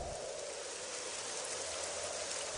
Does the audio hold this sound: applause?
no